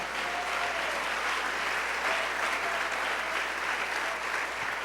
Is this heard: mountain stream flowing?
no